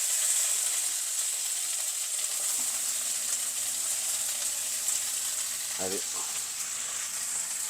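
Ingredients sizzle and crackle steadily as they fry in a pan for a cumin chutney, a constant hiss throughout with a brief spoken word near the end.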